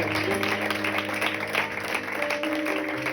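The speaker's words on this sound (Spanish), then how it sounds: "Aplauda a Dios con fuerza en esta tarde" A church congregation in Vallecas, Madrid, applauds during a Spanish-language sermon, a steady, dense wash of clapping with music tones and voices running underneath throughout.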